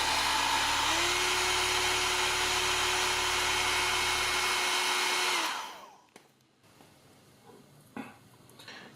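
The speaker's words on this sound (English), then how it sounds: "I will use the blow dryer to speed things up a little." A blow dryer drying paint whirs loudly and steadily at close range for about five seconds, then is switched off and winds down, leaving faint clicks and handling sounds.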